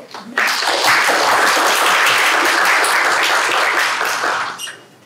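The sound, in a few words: audience applause welcoming the speaker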